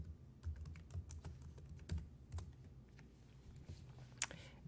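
Fingers type a login password on a computer keyboard, a quiet run of close, irregular key clicks over a few seconds.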